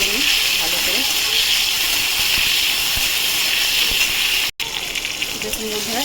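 Tomato sizzling in hot oil in a pan while mung dal is being cooked, a steady bright hiss that carries on throughout and cuts out for a split second near the end.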